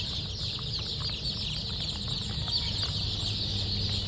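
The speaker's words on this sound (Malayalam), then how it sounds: "ഇതെല്ലാം ഗിരിരാജ കോഴിക്കുഞ്ഞുങ്ങളാണ്" Young Giriraja chicks cluck and peep softly at a hatchery, forming a dense, continuous twittering chorus with steady background hum and no talking.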